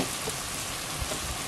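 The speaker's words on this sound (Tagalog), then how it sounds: "dito po sa kawali, nagpakulo tayo ng gata" Coconut milk boiling in a pan (kawali), a steady dense bubbling and sizzling hiss with no pauses, close and even throughout.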